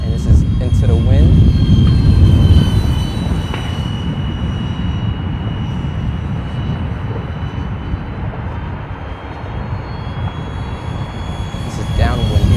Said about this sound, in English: Flyby, a little close for my comfort